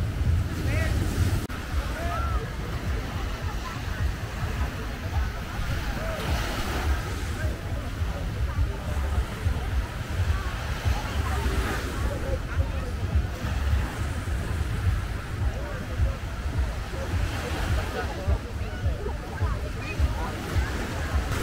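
Ocean surf rolls in continuously at a beach in Boracay, a steady rushing wash with heavy wind buffeting across the microphone throughout.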